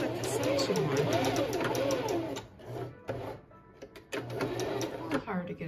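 A sewing machine runs a zigzag stitch along fabric-wrapped rope coiled into a bowl, whirring in long runs with brief pauses and restarts where the work is backed up, close and loud.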